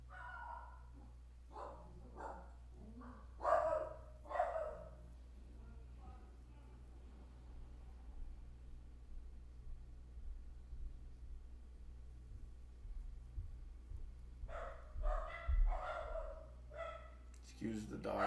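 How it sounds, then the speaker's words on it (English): Several excited dogs bark indoors in two clusters of sharp yips, one early and one near the end, at moderate distance beneath a steady low hum and a person talking. "Excuse the dogs, by the way."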